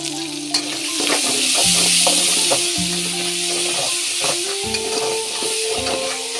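Ridge gourd with ginger-garlic paste fries and is stirred in a pan, giving a loud, continuous sizzle broken by repeated scraping strokes of a spatula, with no voices.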